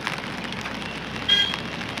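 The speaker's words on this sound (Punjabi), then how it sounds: "ਬਾਰਿਸ਼ ਬਹੁਤ ਮੀਂਹ ਬਹੁਤ ਪੈਣ ਡਿਆ" Heavy rain falls steadily in the Chamba mountains of Himachal Pradesh, a dense close hiss with a brief louder patch partway through and no voices.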